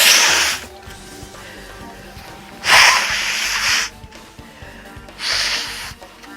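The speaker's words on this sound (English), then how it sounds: "I need to blow my nose again." Three separate bursts of a person blowing their nose, each a sharp rushing puff about a second long, spaced a couple of seconds apart, close to the mic.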